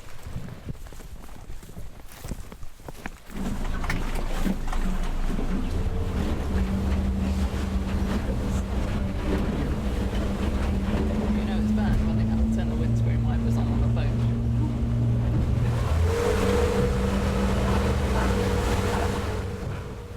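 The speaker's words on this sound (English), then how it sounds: "after a very shaky boat crossing" A boat makes a rough crossing on choppy water, its engine droning loud and steady beneath wind and splashing waves, with a voice briefly audible at the start.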